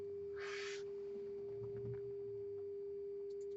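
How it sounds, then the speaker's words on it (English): A steady pure sine test tone from a Nakamichi audio analyzer hums continuously, with a brief burst of higher hiss near the start and faint background noise around it. "And you might be able to hear the sine wave."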